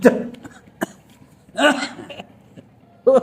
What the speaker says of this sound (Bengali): আরো সুন্দর কাশি দাও না